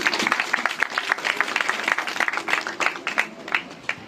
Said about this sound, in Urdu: آپ کی تالیاں